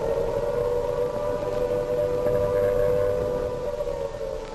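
A loud air raid siren wails steadily over London in 1940, its sustained tone holding for several seconds before easing slightly at the end.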